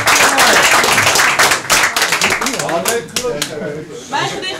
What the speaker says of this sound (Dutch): Mag je een applaus voor Anne Kloosterhuis?